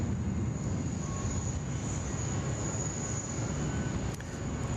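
A steady, loud broadband roar fills the whole clip as an airliner, a Korean 747, moves on the runway at Sydney Airport. It drones continuously, with no speech over it.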